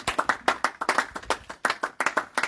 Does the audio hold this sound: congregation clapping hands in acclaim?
yes